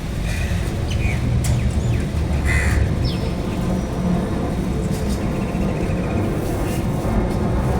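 A few crows caw at a distance over a steady low rumble of traffic-like background noise.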